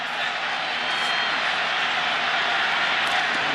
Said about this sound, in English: Crowd urging them to go